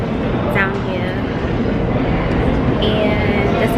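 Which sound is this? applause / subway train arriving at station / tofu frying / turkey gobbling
subway train arriving at station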